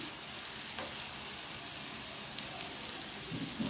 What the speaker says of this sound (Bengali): আমি উল্টো উল্টো সবগুলোকে ভেজে নিচ্ছি চাইলে অনেকে সাদা তেলে ফ্রাই করতে পারেন